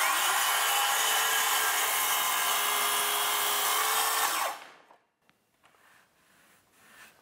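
A handheld circular saw runs a long straight cut through wood along a guide rail, a loud steady whine for about four seconds before spinning down and stopping, followed by faint knocks and handling noises.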